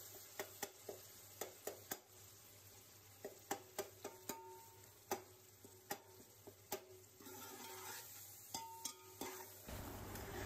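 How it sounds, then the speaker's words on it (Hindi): Spices with red chili powder frying in a pan for chicken pulao, a quiet continuous sizzle broken by regular sharp clicks of a spoon stirring against the pot, with no talking. "अब मैं इन चीज़ों को भी एक से दो मिनट के लिए भून लूँगी"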